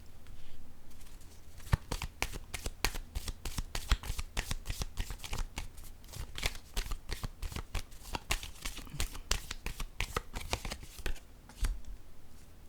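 Tarot cards being shuffled: a long run of rapid, crisp riffling flicks, close and fairly loud, with no talking.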